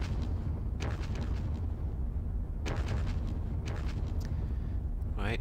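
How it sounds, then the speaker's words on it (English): Mortar fire in the Panzer Battles Kursk war game, a dense continuous rumble of artillery bursts and dull explosions, with several sharper blasts rising out of the low roar. "Mortars."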